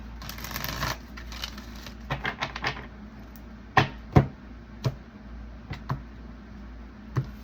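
Soft riffling and sharp snapping taps as a deck of cards is shuffled and squared up, in short irregular bursts close by.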